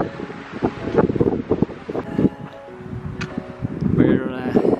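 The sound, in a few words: wind on Acatenango volcano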